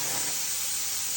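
Food laid into a hot pan frying hard, a dense, bright, steady sizzle close up with no talk.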